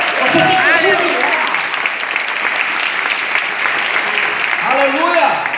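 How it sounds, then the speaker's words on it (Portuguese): A church congregation applauds loudly and continuously during a sermon, with a preacher's voice shouting over the clapping at the start and again near the end. "Aplauda o Senhor."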